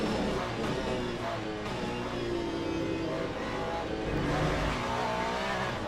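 Race cars in the sim racing game Le Mans Ultimate, engines droning and revving steadily with shifting pitch and faint tire squeal, loud and continuous with no talking.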